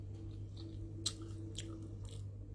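Crisp bites into hard, crunchy fresh fruit, close up: three or four sharp crunches spaced about half a second apart, each followed by quieter chewing, over a low steady hum.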